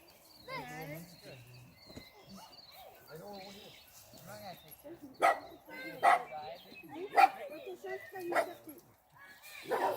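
Dogs bark outdoors during a children's Easter egg hunt. Several sharp barks ring out in a loose series over the second half, with kids' voices and faint birdsong around them.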